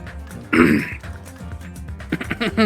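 A single loud, raspy throat clearing bursts out, followed by quieter mouth noises and a few soft breaths or murmurs.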